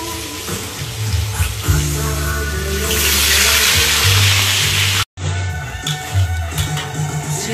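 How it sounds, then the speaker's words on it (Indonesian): Garlic sautéing in a pan, a steady loud sizzle that swells in the middle, briefly cuts out, then resumes, with kitchen clatter and low background sounds underneath. "Okay, tumiskan bawang putih semua mana lagi."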